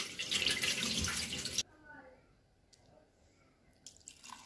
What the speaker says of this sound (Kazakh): Ең алдымен күрішті жақсылап тұрып жуып аламыз. Суын төгеміз.